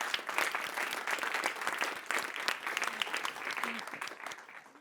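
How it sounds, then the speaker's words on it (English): An audience at startup pitches claps steadily throughout, a sustained, evenly dense round of applause. "So please, a round of applause for these great pitches"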